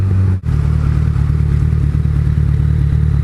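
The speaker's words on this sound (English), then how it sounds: "Oh, nice little Yamaha." A small Yamaha motorcycle engine runs close and loud with a steady, throbbing low rumble that holds for several seconds after a brief dropout at the start.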